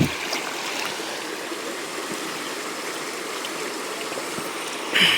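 Water pouring steadily into a container to mix pesticide spray in a farm field, a continuous rushing splash close by with a brief louder surge at the end and no talking.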